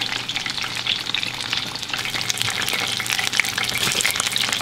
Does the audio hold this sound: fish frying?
yes